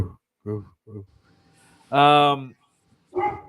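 A dog gives several short barks and yips, close and fairly loud, spaced irregularly, with one longer whining bark in the middle.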